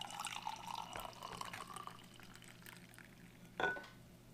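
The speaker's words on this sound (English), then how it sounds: "give that a shot of hot water." Hot water poured from a kettle into instant coffee from an Australian CR1M ration pack, a soft trickling stream that tapers off, followed by a brief clink near the end.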